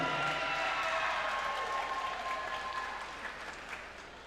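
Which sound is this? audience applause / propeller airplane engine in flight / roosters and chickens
audience applause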